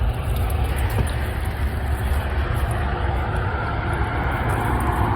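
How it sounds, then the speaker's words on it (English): Road traffic passes beside a vegetable garden in a continuous loud roar of tyres and engines, a steady broadband wash with no break and no voices over it. "I'm not sure if you'll be able to hear me for much longer over the traffic"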